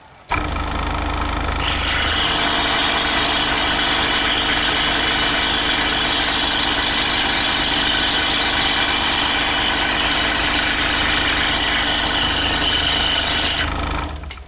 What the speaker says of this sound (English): the feed rate is going to get drastically slower now that we are scrolling through a whole inch thick of material